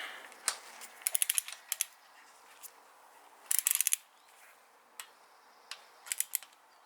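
Clicks from a torque wrench tightening bolts to 89 inch-pounds on a diesel engine's billet front cover while injectors are being installed. Sharp, clustered ticks come in short bursts separated by quiet pauses, close up, with no talking.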